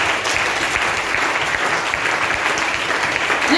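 A church congregation applauds and cheers in praise of the Lord: steady, dense clapping from a large crowd, close and loud, sustained without pause.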